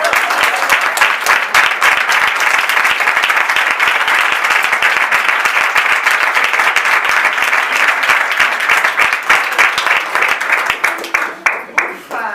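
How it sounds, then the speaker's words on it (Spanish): Loud, sustained applause from a crowd at a book launch, dense clapping that continues steadily before thinning into scattered individual claps at the end. "Y un aplauso para ti."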